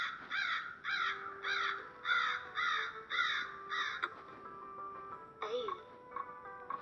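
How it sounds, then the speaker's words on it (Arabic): Crow caws from an animal cube toy, a series of about eight rhythmic harsh calls followed by a sliding electronic tone, clear and close with no talk over them. "غراب."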